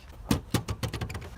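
Plastic latch clicks sound as a pannier case comes off a Mash 400cc Adventure motorcycle: a few sharp, close snaps and knocks in quick succession, with no talking.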